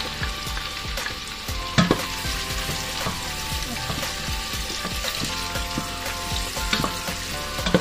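Garlic and onion sizzle steadily in a hot pan for pansit palabok, a dense continuous crackle with scattered sharper pops and one brief louder spatter, no voices over it.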